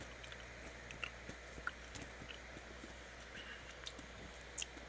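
Faint close-up chewing of crunchy raspberry M&M's candy, soft scattered crunches and clicks over a quiet background hum, no talking.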